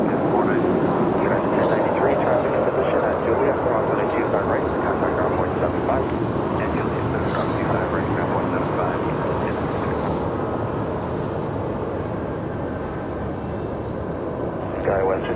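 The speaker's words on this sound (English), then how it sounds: "Departure here on the south side is a United Airlines 737-900ER on our way to Cancun, Mexico" A United Airlines Boeing 737-900ER jet departs from the south side of Los Angeles International Airport, its engines a loud, steady roar held throughout, with talk and radio chatter over it.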